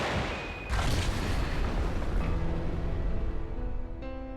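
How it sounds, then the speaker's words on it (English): Controlled explosions demolishing a cave, a heavy booming blast that erupts suddenly and rumbles on with a long roaring decay, followed by a fainter second burst near the end. "The cave was demolished with 2 controlled explosions."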